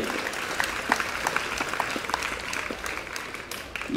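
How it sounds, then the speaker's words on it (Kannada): Crowd at a village fair comedy show breaking into dense, steady applause, many hands clapping together close and loud for a few seconds with no talking. "ಒಮ್ಮೆ ಜೋರಾದ ಚಪ್ಪಾಳೆಯನ್ನು ತಟ್ರಿ"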